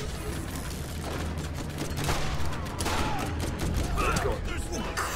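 Revolver fire in the shooter game Borderlands, a run of rapid cracking shots and clatter over dense game noise, with several shots landing close together in a busy firefight.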